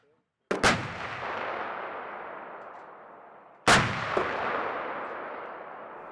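Two loud, sharp artillery blasts fire a few seconds apart at a Finnish range north of the Arctic Circle during the Northern Strike exercise. Each boom rolls off into a long echoing decay across open ground.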